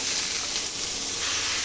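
Potatoes and flat beans frying in hot oil in a pan as they are stirred, giving a steady, close, continuous sizzle and hiss with no voices.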